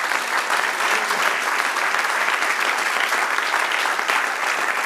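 Congregation applause in a church service, loud, dense and continuous clapping from a full crowd sustained throughout, with no talk over it.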